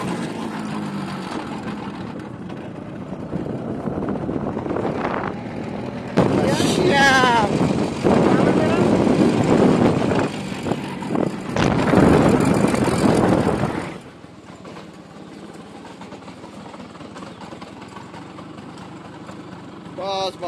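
A scooter engine revs on a road, rising to louder bursts mid-way before dropping back to a low idle, with wind buffeting the microphone and someone talking over it.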